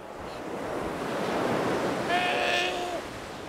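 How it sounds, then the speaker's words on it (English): Steady sea surf washes over a Galápagos Islands shore with a wind-like roar, and midway a sea lion lets out a drawn-out, bleating call above the waves. "There's a quietness in a way with just the sounds of animals and the sea."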